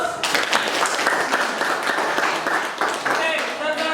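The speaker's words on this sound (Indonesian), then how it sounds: "Terima kasih, kasih aplaus" An audience applauds after a classroom presentation, with steady clapping lasting several seconds and voices mixed in.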